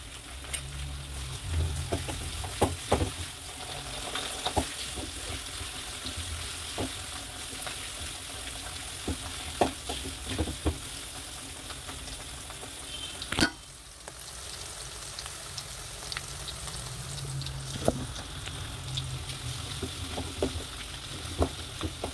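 Ginger, garlic, green chili and curry leaves sizzle steadily in hot oil in a pan, with scattered clinks and scrapes of stirring throughout and one short pause in the frying midway.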